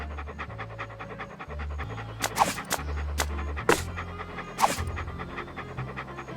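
Walt the dog pants steadily in the Monkey Island 2 video game, quick rhythmic breaths over a low game music bed, with a few louder bursts and no talking.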